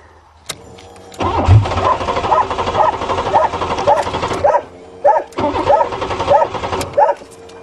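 A Buick 3.8 engine cranks and tries to start: a click, then a steady rhythmic whirring starter with regular pulses, briefly cutting out and resuming, close and loud without catching.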